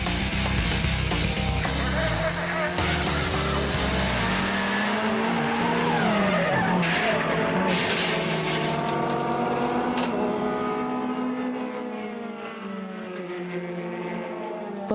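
Race cars at Le Mans circuit roar by, with loud engine drone and rising, falling pitch sweeps as cars pass, and some squealing tires, the noise steady and close before easing slightly toward the end.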